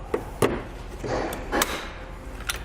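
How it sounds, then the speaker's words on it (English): A plastic rivet gun squeezes and sets a plastic rivet through two layers while a Roadmaster crossbar-style base plate kit is fitted to a 2018 Jeep, giving several sharp, close snaps and clicks spaced over a few seconds with no speech. "I have a plastic rivet gun tool. I'm going to go through the first layer, making sure that it goes through the next layer, and we can squeeze it to set the rivet"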